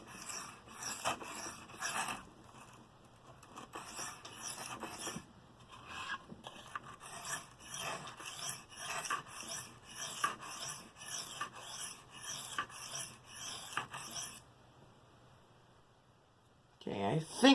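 A Bestech Scimitar knife is sharpened freehand on a whetstone, giving rhythmic rasping strokes that repeat steadily back and forth with brief pauses, then stop near the end before a closing clunk.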